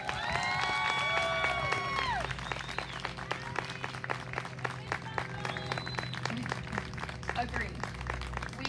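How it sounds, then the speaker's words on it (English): An audience applauds a graduating fifth-grade class at a school moving-up ceremony. The clapping is dense and steady for the whole stretch, with a few voices and some speech mixed in underneath. "Let's give you guys a nice round of applause."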